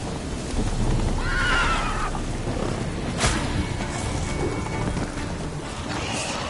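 Roach, the horse from the video game Witcher 3, lets out a clear neigh near the start, followed by hoofbeats and a sharp snort amid a steady background rush.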